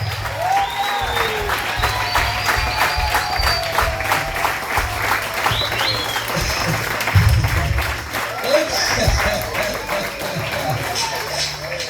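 A church congregation claps for women, sustained crowd applause with scattered cheers, while a voice speaks over the clapping throughout.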